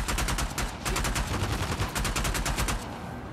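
Rapid gunfire rattles in the video game Uncharted: The Lost Legacy, a loud close string of automatic shots in quick regular bursts that tapers off near the end.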